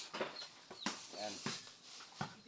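A few chickens cluck in short, scattered bursts close by, with soft rustling and quiet sounds in between.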